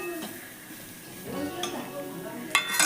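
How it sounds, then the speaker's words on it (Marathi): Grated fresh coconut is sautéed over a low flame for a coconut rice dish, making a quiet sizzle with spatula scrapes and a couple of bright metallic clinks against the pan, while a voice talks alongside. "किसलेलं ओलं खोबरं टाकून घ्यायचं आणि चांगलं परतून घ्यायचं आहे."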